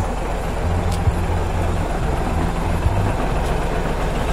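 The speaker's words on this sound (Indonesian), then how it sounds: "Dengarkan Hino 700 suaranya lur" Hino 700 trailer truck engine idling, a steady low diesel rumble with a fairly even throb held throughout, loud and close, with no talk over it.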